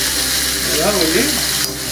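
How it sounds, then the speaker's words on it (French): Veal osso buco searing in a hot pan, a loud, dense, continuous sizzle with a faint scrape partway through, a brief voice murmuring underneath. "prenez surtout bien le temps de griller la viande"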